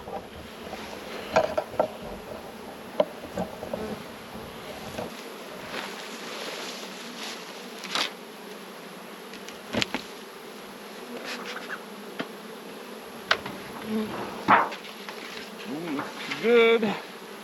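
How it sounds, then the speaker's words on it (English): A cloud of honey bees buzzes steadily around an open hive during a honey check, a dense, continuous hum close by with a few faint knocks and handling sounds mixed in. "cloud of bees around me"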